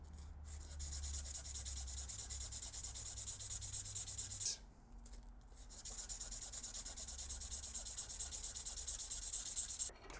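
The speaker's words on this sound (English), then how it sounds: "good old medium grit sandpaper and just work our way around" Medium grit sandpaper rubs around a graphite golf club shaft in sustained scratchy strokes, pausing briefly midway before resuming, close and steady with no voices.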